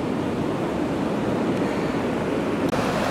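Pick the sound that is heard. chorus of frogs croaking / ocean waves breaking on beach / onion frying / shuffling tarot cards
ocean waves breaking on beach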